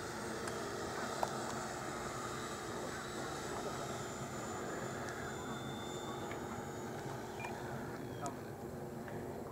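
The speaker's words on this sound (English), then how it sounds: "We're landing." A Freewing F-86 Sabre radio-controlled jet comes in to land on its maiden flight. Its whine is faint and distant, holding steady and unbroken throughout.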